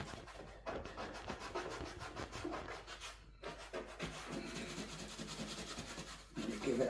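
A cleaning stone scrubs a dirty suede UGG boot in quick back-and-forth strokes, producing a soft, close, dry rasping rub that pauses briefly midway.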